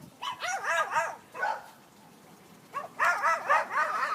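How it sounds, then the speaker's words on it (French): Several dogs bark in quick overlapping bursts, fairly close and loud, with a short pause midway before another run of yapping barks. "C'est pas le mien qui aboie."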